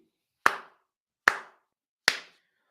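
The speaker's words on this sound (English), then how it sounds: "You know why I'm clapping?" Three sharp, close hand claps, evenly spaced with silence between them and no talking.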